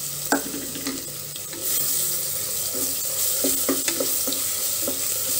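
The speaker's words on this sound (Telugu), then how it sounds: "ఇప్పుడు ఇందులో అల్లం వెల్లుల్లి పేస్ట్ వేసుకుందాము." Ginger garlic paste fries with onions in a pan for moong dal khichdi, a steady near sizzle punctuated by repeated scraping stirs of a spoon.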